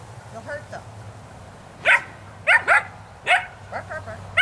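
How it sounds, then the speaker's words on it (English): Several doodle poodle dogs bark in short, loud bursts while playing in a yard, with a few quieter yips between the sharper barks. "Bark, bark, bark."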